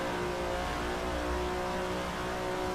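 A 330 P4 race car engine in the Assetto Corsa video game revs hard and climbs in pitch down a straightaway, a loud, close, continuous drone with no talking.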